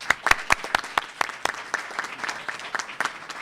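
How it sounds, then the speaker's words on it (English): A live audience applauds at a Cook County Medicaid event honoring Stroger Hospital staff, with sharp, uneven claps building into steady applause for a few seconds and no talking over it. "They deserve a round of applause."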